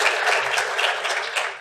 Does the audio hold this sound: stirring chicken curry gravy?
no